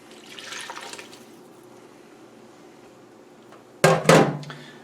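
Water and olive oil poured into a bowl for simple pizza dough, a short, fairly close splashing pour near the end after a quiet kitchen stretch with a faint earlier trickle.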